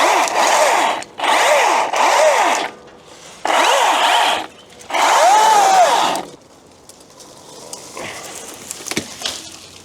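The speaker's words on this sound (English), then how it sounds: "I think an electric chainsaw is perfect for this" An electric chainsaw cutting through thorny vines around an old crane, in several loud buzzing bursts separated by short pauses, each rising and falling in pitch as it bites, followed by quieter rustling and snapping.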